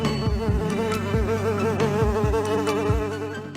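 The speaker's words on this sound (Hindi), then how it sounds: "3 मक्खियां बिन बुलाई मेहमान बनकर आईं" Three houseflies buzzing close by at an indoor event, a loud continuous droning whine with pulsing wingbeat tones and several soft knocks underneath.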